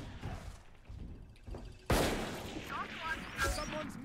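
Video game gunfire: a sharp loud shot near the midpoint followed by scattered echoing bursts, with quieter thumps before it and players talking over the action.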